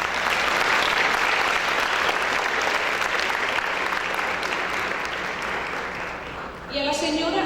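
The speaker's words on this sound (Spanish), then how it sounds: "Para él también un caluroso aplauso." A business panel audience gives a speaker from Grupo Terra in El Salvador a warm round of applause, dense and steady for several seconds before fading as a voice briefly takes over.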